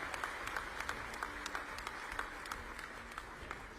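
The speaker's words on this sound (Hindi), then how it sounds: "एक बेटी Nikhat Zareen world champion boxing, उनका भी तालियां बजा के स्वागत कीजिए" A crowd at an official government event in Bhopal applauds to welcome world champion boxer Nikhat Zareen, a faint, steady patter of many hands with sharper individual claps standing out at a distance.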